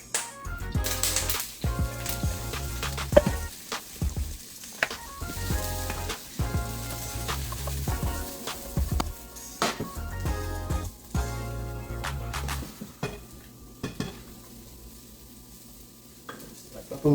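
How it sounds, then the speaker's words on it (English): Red cabbage sautés in a pan with a steady sizzle. A utensil stirs and scrapes through it again and again in clattering bursts, close and fairly loud. "we're gonna saute our red cabbage"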